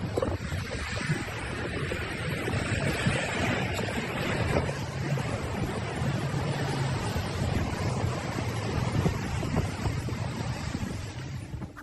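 Steady wash of small waves rolling onto a beach with heavy wind buffeting the microphone, continuous and fairly loud, no voices.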